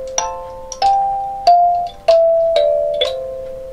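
A toy instrument plays a slow tune of bell-like tones, six separate struck notes at an uneven pace, each ringing and fading, clear and close with no talk.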